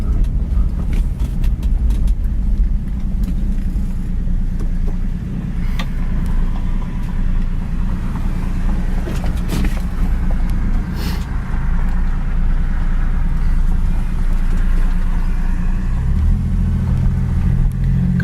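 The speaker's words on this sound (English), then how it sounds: "The engine seems to run nice and quiet." A maroon 1967 Ford Mustang engine idling steadily, a loud, continuous low rumble that holds for the whole stretch with small ticks and shifts near the end, and no talk over it.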